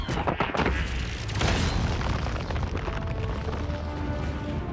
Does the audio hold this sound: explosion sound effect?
yes